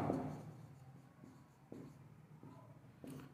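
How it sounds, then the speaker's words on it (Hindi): Writing on a board during a physics lesson on displacement-time graphs: quiet chalk or marker strokes tick at irregular intervals over a soft room hum, with no speech. "अब एक पॉइंट यहां पर मैं लिखता हूं"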